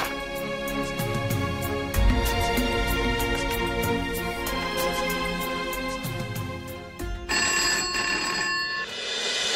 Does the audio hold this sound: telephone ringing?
yes